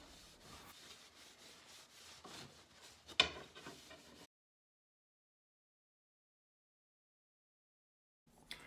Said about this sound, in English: wipe off the excess with another clean dry cloth